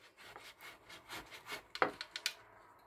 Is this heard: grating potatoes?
yes